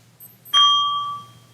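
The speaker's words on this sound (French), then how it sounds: "Je le rapproche du micro, ce sera mieux." A Buddhist bell touched with its wooden inviter stick near the microphone gives one louder, bright metallic ding, preceded by a faint tap, with a clear ringing tone that fades steadily.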